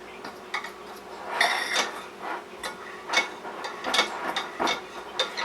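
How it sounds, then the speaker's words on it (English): A fork mashes butter into flour in a bowl for cast iron biscuits, a close series of irregular scraping clinks and taps against the bowl with no one talking. "So I'm going to use a fork and just mix all this up. Just kind of mash the butter in to mix it all up with the flour."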